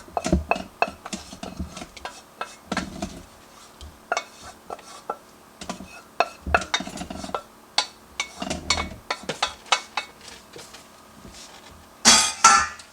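A spoon stirs sauce through baked ziti with beef and broccoli in a dish, producing a long run of irregular clinks, scrapes and soft taps, fairly close and steady, ending in a louder clatter.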